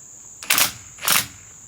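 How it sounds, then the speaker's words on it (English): A variable speed impact gun, set low, tightens a bolt on a drive shaft U-joint of a 2006 Dodge Ram 1500 Mega Cab, giving two short close bursts about half a second apart over a steady high whine. "Now I have my impact."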